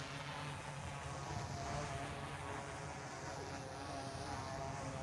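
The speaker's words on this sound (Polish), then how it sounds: "nad nami leci dron telewizyjny" A television drone flies overhead at an outdoor funeral crowd in Poland, giving a steady, droning propeller whine that holds at a constant moderate level with no talking.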